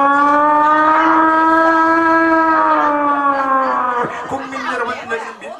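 A single voice imitates a wailing siren, holding a rising and falling tone close up, then breaking into choppy, wavering sounds near the end.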